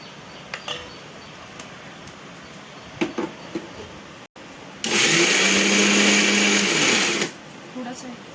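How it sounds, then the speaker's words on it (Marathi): Kitchen mixer grinder finely grinding coconut, a sharp high whirring motor burst lasting about two and a half seconds after scattered clinks and handling noises, close and loud. "आता मग खोबरं बारीक करूया."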